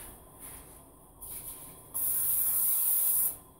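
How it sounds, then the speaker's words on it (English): Cooking spray hisses onto a pan in a home kitchen before pancakes are made: a few short bursts, then one longer, louder spray up close, with no talking. "We need our cooking spray."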